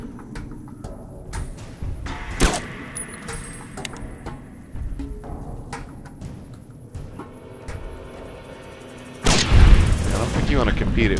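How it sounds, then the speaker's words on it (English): In the Fallout New Vegas video game, a sniper rifle fires sharp, booming gunshots, a few loud reports over a quieter game background, with a louder burst of noise near the end. "You want to compete at me with sniping, Mr. Wolfhat."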